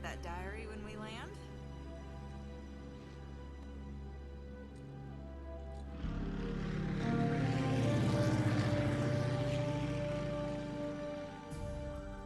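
Propeller engine of a seaplane in Uncharted: Drake's Fortune, a steady drone that swells louder and fuller partway through, mixed with game music and surging water.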